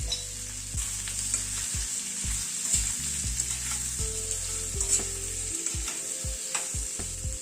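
Potatoes seasoned with salt and turmeric fry in a pan with a bright, continuous sizzle, broken by the scrape of stirring and a few clinks of utensil against the pan.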